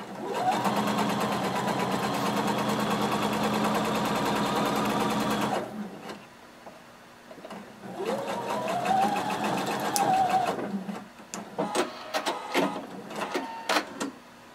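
A sewing machine stitches close to the fabric edge of a Simplicity 1115 jumpsuit, running steadily for several seconds before shifting to quieter stop-start stitching with sharp clicks.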